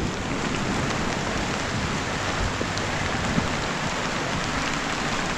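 Steady heavy rain pours down on an outdoor spot in Savannah, Georgia, a dense continuous hiss with no clear thunder clap standing out.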